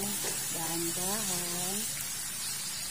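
Sayote being stirred in a hot pan, a steady bright sizzle running throughout while a voice speaks over it.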